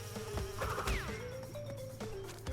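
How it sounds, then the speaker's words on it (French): A bee buzzing in the video game Crash Bandicoot 2, a steady insect drone running throughout under game music and effects, with a quick swooping sound near the start. "Mais c'est horrible ce délire de l'abeille"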